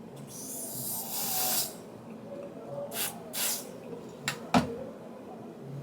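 Airbrush makeup spray mists onto a face in several short hissing bursts, a longer spray first and then quick puffs, close and fairly loud with no talk.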